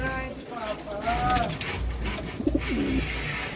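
Racing pigeons cooing close by in soft, rising and falling murmurs, with a few short coos later and a voice talking over them.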